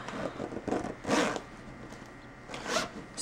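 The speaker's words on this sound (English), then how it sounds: "See if I can zip this up." Three quick zipper pulls as a stuffed messenger bag, crammed with binders, textbooks and a notebook, is zipped shut, the middle rasp loudest, heard close and alone.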